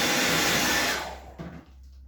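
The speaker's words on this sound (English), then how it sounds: "So I'm just going to quickly give that a dry with a hairdryer." A hairdryer blows close and loud to dry paint on a cosplay prop, a steady whooshing roar that cuts off after about a second and winds down to quiet.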